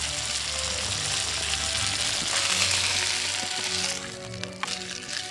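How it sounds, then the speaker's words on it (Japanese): A garlic steak with salt and pepper sears over a strong flame outdoors on a mountain pass, giving a loud, close, continuous sizzle with faint scraping near the end. "表面を焼いて肉汁の流出を止めないといけません"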